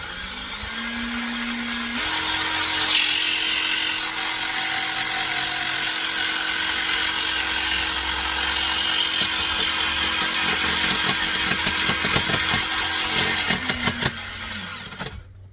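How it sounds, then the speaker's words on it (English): A jigsaw starts up and runs steadily cutting metal on a Citroen Relay van, with a loud, buzzing motor whine and rattling cutting noise, winding down near the end. "Set your drill up, your jigsaw away, running before you get near your metal, and then it'll go in clean"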